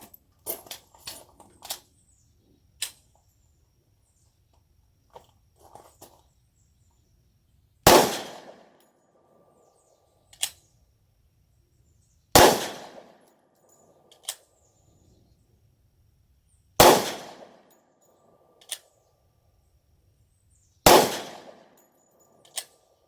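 Four loud, sharp pistol shots from a Polymer 80 10mm handgun firing S&B 180-grain rounds with a 22-pound recoil spring, spaced about four to five seconds apart outdoors, with fainter clicks and handling noises between them.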